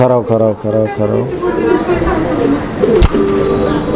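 Fancy pigeons coo in a quick series of soft, throaty pulses near the start, followed by nearby chatter and one sharp knock.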